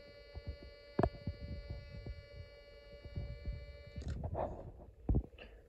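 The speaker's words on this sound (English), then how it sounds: "when I hold down the press switch, the circuit may produce what sounds like a steamship" A Snap Circuits Extreme SC-750 electronic kit circuit gives a low, throbbing hum with soft pulsing beats, like a distant steamship, holding steady with a couple of sharper clicks near the end.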